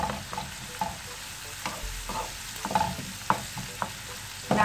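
Onion with ginger garlic paste frying in a pan under a low, steady sizzle, with scattered spoon clicks and scrapes as it is stirred, with no talking.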